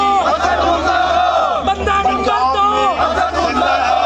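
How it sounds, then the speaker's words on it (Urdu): Pakistan Peoples Party supporters at a Punjab iftar dinner chant slogans against the provincial leadership while the party chairman is on stage, a loud rhythmic crowd of voices calling out together. "پیپلز پارٹی کے جیالے پارٹی چیئرمین کی سٹیج پر موجودگی میں پنجاب کی قیادت کے خلاف نعرے لگاتے رہے"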